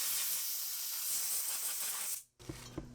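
Spray cleaner and compressed air blowing out a CVT clutch bearing, a strong steady hiss lasting about two seconds, then an abrupt stop followed by a couple of light knocks and clicks.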